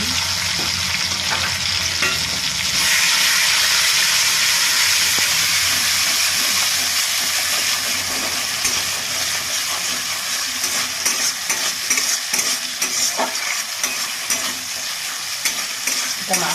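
Spice paste for a banana flower and shrimp curry hits a hot pan and sizzles loudly, the hiss swelling after a few seconds as it is stirred steadily with frequent scraping strokes of the spatula.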